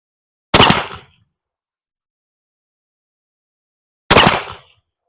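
Two loud, close shots from a Ruger Old Army black powder revolver, each a sharp blast with a short decaying tail, about three and a half seconds apart, with silence between them.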